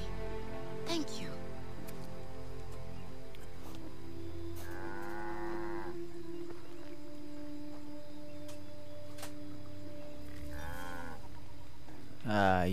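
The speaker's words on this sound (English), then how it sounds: "What is this cow doing?" Cattle mooing in the Assassin's Creed 3 video game, two long drawn-out moos some seconds apart and a short third call at the end, heard over a quiet rural game ambience with no one talking.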